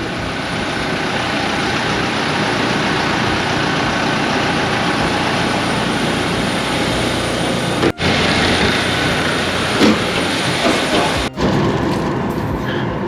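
TUI Boeing 737 MAX aircraft, a loud continuous jet engine roar with a broad rushing noise, steady throughout and broken by a couple of brief dropouts or knocks.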